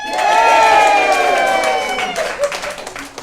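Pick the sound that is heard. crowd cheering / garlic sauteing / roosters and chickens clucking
crowd cheering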